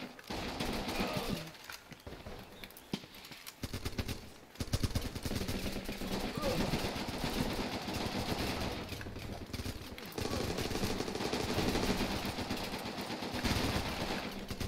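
Rapid gunfire from the tactical shooter game Running With Rifles, with bursts of automatic fire and overlapping shots running dense and loud through most of the stretch, pausing briefly near the start.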